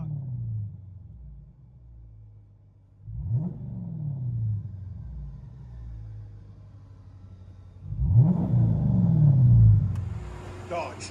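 Dodge Charger R/T with a 5.7L Hemi, exhaust heard from inside the cabin: low throaty rumble with two rising revs, the second louder and longer, settling back to a steady idle drone.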